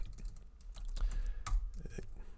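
Rapid clicking of keys on a computer keyboard, irregular bursts of typing close by with no talking.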